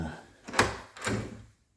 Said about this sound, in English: door works